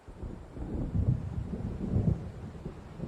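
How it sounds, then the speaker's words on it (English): Thunder from an approaching storm in the video game Alan Wake Remastered: a low, deep rumble rolling and swelling twice over about three seconds, fairly close and steady with no voices. "It seems there's a storm coming"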